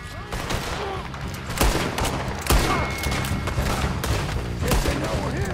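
Heavy gunfire from a camp raid in the video game Red Dead Redemption 2, a dense, loud barrage of overlapping shots with several sharper booming blasts, continuous throughout with no talk.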